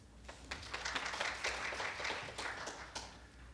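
Audience applause for a presenter at a Korean health policy forum on ICT-based chronic disease management, a steady wash of many hands clapping at moderate distance, sustained without pause for several seconds.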